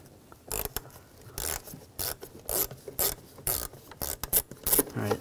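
A ratchet fitted with an 8mm socket loosens a worm-gear hose clamp on the intake of a 2013-2019 Ford Escape 2.0L, giving a series of close, loud bursts of rasping clicks separated by short pauses, with no talking.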